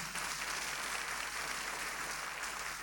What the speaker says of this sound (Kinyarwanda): Muhe Yesu amashyi.